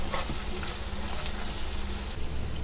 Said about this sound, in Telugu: బాగా కలిపేసుకొని బౌన్లో తీసేసుకుందాం